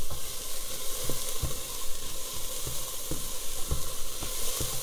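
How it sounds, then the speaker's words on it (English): Vegetables and thyme sauté in a pot for chicken noodle soup, making a loud, steady sizzle broken by regular soft knocks and scrapes of stirring. "So I'm going to let this saute for another 3 to 5 minutes."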